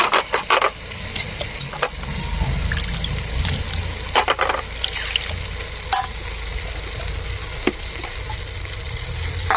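Spice paste and tomato fry in a pan with a loud, continuous sizzle, punctuated by scraping strokes of a spoon stirring near the start and at intervals, with no speech over it.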